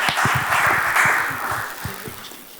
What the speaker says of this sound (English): I think that we all deserve a round of applause.